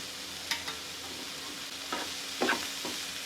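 Shredded cabbage, capsicum and carrot stir-fried for momo filling, a soft low sizzle with a few brief scraping stirs of a spoon, quiet and close, no talking.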